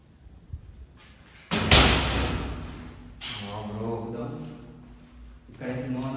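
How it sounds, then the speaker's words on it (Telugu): A door bangs open suddenly with one sharp, loud thud in a room during a Charlie Charlie game, and people talk before and after it. "డోర్ అయితే 2 సార్లు ఓపెన్ అయింది"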